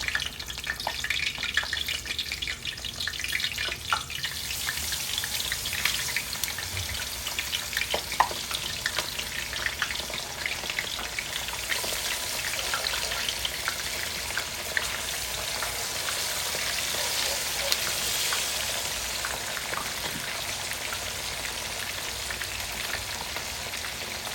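Yellowtail snapper with peppers sizzles and crackles steadily in hot oil, a continuous close frying hiss with small pops and occasional stirring.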